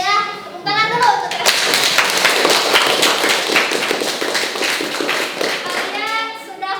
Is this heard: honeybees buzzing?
no